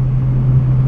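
A turbocharged 1.2-litre Fiat Seicento engine runs with a loud, steady low drone for under a second as boost builds, close and continuous with no voices.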